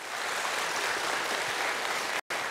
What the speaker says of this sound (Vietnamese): Xin mọi người cho một tràng vỗ tay được không ạ?